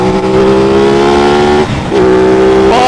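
An Aprilia RS660 sport motorcycle ridden on an open road, its engine droning loud and close at steady revs with a brief dip, likely a gear change, before pulling again.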